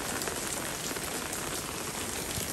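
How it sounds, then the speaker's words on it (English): Steady rain pours down during a drought, a dense even hiss of drops striking surfaces nearby, constant with no pauses or voices. "It's kind of pouring, but not too crazy."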